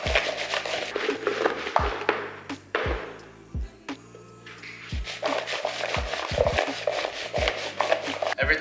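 Seasoned butternut squash pieces with salt and pepper tossed in a bowl, a run of close, irregular clattering knocks and scrapes against the bowl, with no talking.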